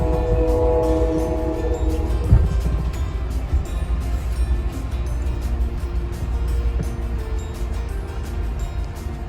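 A steady rumbling roar of a moving Amtrak Coast Starlight passenger train heard from on board, with a horn-like tone fading early on and rhythmic clatter underneath.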